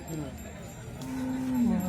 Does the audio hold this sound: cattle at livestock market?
yes